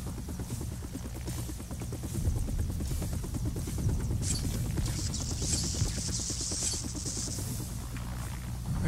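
A helicopter in the Batman Vengeance video game keeps up a loud, steady rotor chop that lasts throughout, with a brighter higher whine joining midway.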